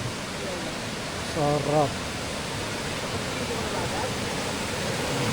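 Taytay Falls in Majayjay, Laguna, roars as a loud, steady broadband wash of falling water, with a person briefly speaking over it.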